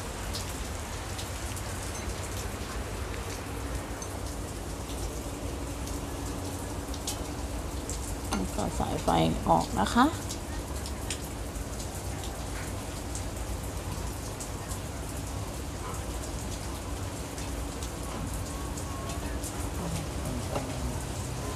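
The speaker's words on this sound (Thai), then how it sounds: "ขอโทษขออภัยเสียงรบกวนด้วยนะคะฝนตกจ้า" Heavy rain falls steadily outside a roadside repair shop, a constant broad hiss throughout with a brief louder splash or passing disturbance midway, and someone speaks briefly over it.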